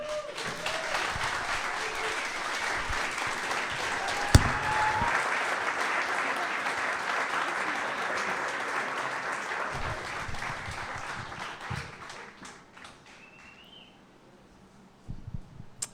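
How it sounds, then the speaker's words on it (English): Sustained audience applause at an evening green building presentation event, a dense steady wash of many hands clapping that fades out near the end, with a little faint talk toward the close. "Give another huge round of applause to every single one of our wonderful, wonderful, wonderful presenters tonight."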